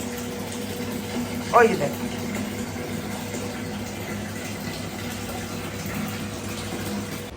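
Water is filled from a running tap or pump in a steady low rush, with a brief splash near the start and a voice speaking briefly over it.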